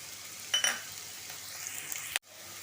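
Onion, garlic and green chillies hit a hot pan with a sharp hiss, settle into a steady sizzle and end with a sudden clatter that cuts off abruptly.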